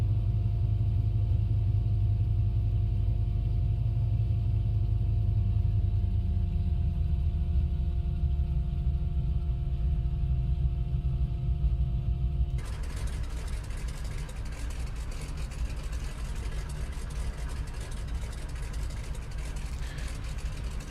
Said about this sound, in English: it's a radial engine, so yeah, it's definitely a beefy aircraft